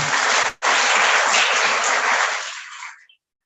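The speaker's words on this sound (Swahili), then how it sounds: "tupige makofi mama" Audience applause at a motivational talk for exam candidates: dense, loud clapping that breaks off briefly near the start, then carries on for a few seconds before fading out.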